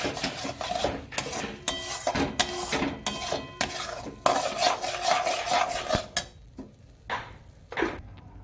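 Spoon scraping and stirring a beet and carrot kochuri filling with sugar in a pan, a steady run of dense rasping strokes with a few clinks, then sparser scrapes near the end.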